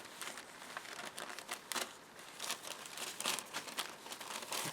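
Soft, irregular crinkling and rustling of a fragile old paper train order form being handled, in quiet close bursts with no talking.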